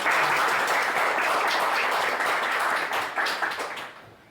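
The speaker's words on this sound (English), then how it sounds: "Applause." A conference crowd claps steadily, dense and even for about three seconds before tapering off into silence near the end.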